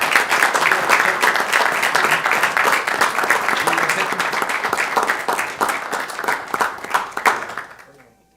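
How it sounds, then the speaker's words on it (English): A council meeting audience gives sustained applause for a retiring city employee, dense clapping at steady volume that thins and fades out toward the end. "Let's give him a round of applause."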